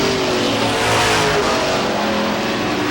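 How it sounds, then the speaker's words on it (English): Race cars at Star Speedway in New Hampshire roar past in a steady, loud engine drone with shifting pitch as they run close together, lasting the whole short span with no voice over it. "Everybody's running along here as Brett Rollins is running right behind Tim Casey"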